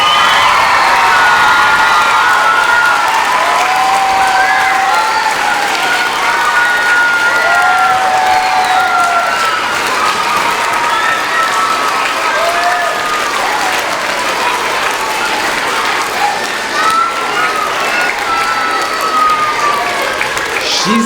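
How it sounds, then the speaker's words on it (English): An elementary school crowd of children and adults applauds and cheers to honor the Maine Assistant Principal of the Year, a loud, sustained roar of clapping with whoops and high children's shouts rising throughout. "So let's hear another great round of applause."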